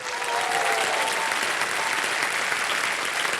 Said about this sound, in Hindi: ऑडियंस पोल जीवित हो गई, ताली बज जाए।